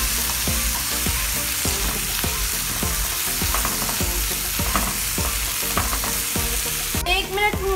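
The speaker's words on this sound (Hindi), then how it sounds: "हमने इसे थोड़ी सी मिर्च डाल के भुना है।" Boiled keema with a little chili sizzles steadily in a pan for samosa filling, with repeated scraping stirs of a spatula cutting through the constant frying hiss.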